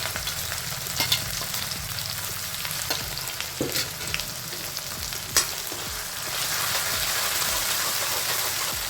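Ginger-garlic paste and whole coriander seeds sizzle in hot oil for a pork pickle, a steady close frying hiss with a few sharp pops and crackles, louder toward the end, and no talk.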